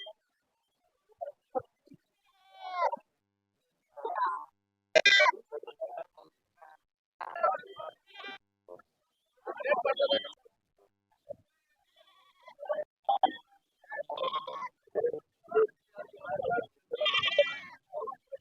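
Kunta sheep and goats at a livestock market near Hanuman Junction bleat repeatedly in short, wavering cries, close and fairly clear, interspersed with people talking nearby.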